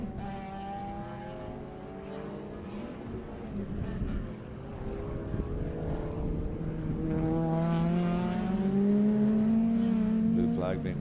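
An Integra race car on the main straight of a circuit race, its engine note climbing and growing louder as it passes, with other cars audible in the background.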